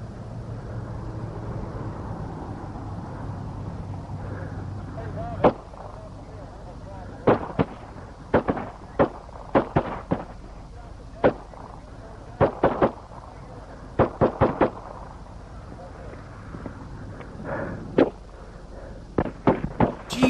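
Gunshots from a police video played back during a livestream, sharp separate cracks in irregular clusters over a background hum, with speech mixed in.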